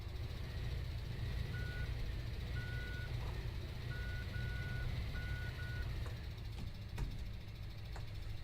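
Intermittent electronic reversing beeps from a vehicle backing up in Landwirtschafts-Simulator 17, a German farming simulator, pulsing in short groups over a steady low engine rumble with no talk.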